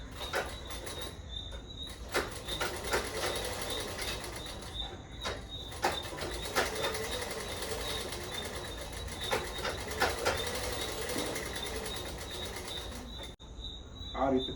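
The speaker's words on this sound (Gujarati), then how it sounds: "હમણાં સિલાઈ મારવાની છે" A sewing machine stitches a plain blouse, its steady mechanical whir running continuously near and close for most of the stretch, with brief pauses and light handling clicks around it.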